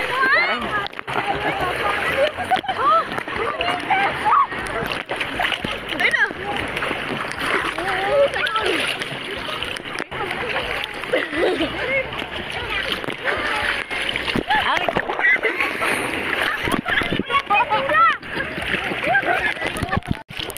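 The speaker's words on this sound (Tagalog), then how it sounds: "Taas ng alon." Rough sea water splashing and sloshing continuously as large waves break, loud and close, with people talking over the wash of the waves, in Camiguin.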